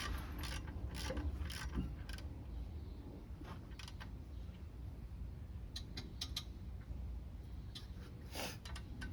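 Ratchet clicks in short repeated bursts as brake rotor bolts are tightened on a Toyota Prius, close and fairly loud over a steady low background hum.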